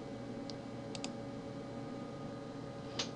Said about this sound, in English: If you're hearing a lot of clicking, it's because I'm using my mouse to do this.